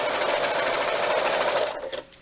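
A sewing machine runs fast and steady as it chain stitches jelly roll fabric strips, a close, even mechanical whir that stops abruptly near the end.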